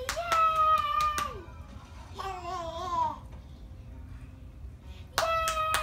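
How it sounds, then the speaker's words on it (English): A few sharp hand claps from a young child, close and clustered in quick bursts at the start and again near the end, with a high excited child's vocalization between them. "There was kind of a clap in there."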